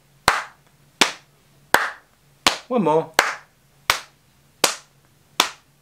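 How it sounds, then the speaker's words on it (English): Rhythmic hand clapping alternating with slaps on knees or a table, eight sharp even beats close up, with a brief spoken phrase partway through. "You're going to need your knees or a table for this. Clap, slap, clap, slap."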